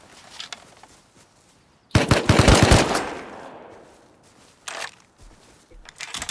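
A burst of rapid automatic gunfire erupts midway, loud and close, followed by a few scattered quieter shots; faint game ambience fills the gaps.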